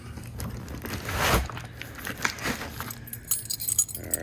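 A ring of keys jangles close by as they are pulled out to open a LiveWire ONE electric motorcycle charging kit, bright irregular metallic clinks and rattles over a few seconds, ending with a short clatter.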